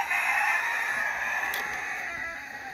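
A rooster crows once in a long, drawn-out call at a backyard chicken coop, clear and fairly close, with no talking over it.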